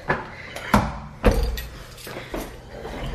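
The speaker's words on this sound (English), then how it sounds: "Oh no, the door is closing behind me." A heavy door in a theatre swings shut with a few dull thuds and clicks that ring faintly in a hollow, quiet room, and no one speaks.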